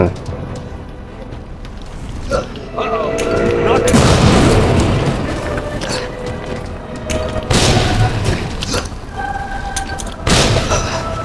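Explosions and heavy booms from the Resident Evil Remake game, with several deep blasts layered over game music and effects, loud and close throughout.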